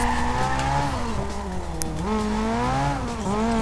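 A fast car in Need for Speed Most Wanted racing on a circuit, engine droning and shifting pitch as tires squeal and skid through corners, loud and continuous with no talk.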